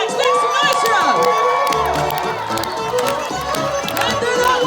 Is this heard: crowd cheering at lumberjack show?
yes